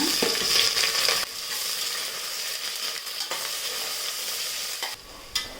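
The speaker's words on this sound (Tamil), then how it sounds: "இதெல்லாம் நல்லா பொரிஞ்சு வந்துட்ட பிறகு வெங்காயம் எடுத்து வச்சுருக்கேன் வெங்காயம் சேர்த்துடலாம்" Onions hit hot oil after the tempering has crackled, for chicken and vegetable biryani; a loud sizzle drops to steady frying with scraping stirs and a brief clatter near the end, no voices.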